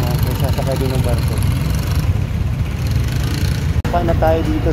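A passenger ferry's engine idles with a steady low rumble on a crossing to Samal Island, Davao, and someone talks over it near the end.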